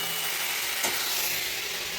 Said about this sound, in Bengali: দেখো আলু ভাজা হচ্ছে